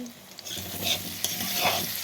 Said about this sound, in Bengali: এই যে আলু কাটিয়া তেলটা ভাজা করতেছি।